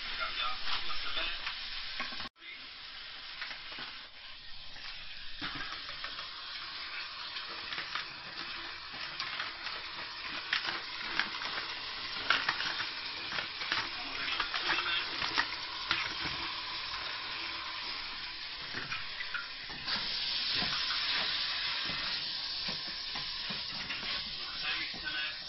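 Meat for kung pao sears in a hot pan with a continuous loud hiss and sizzle, broken by frequent scraping stir strokes, with no talking.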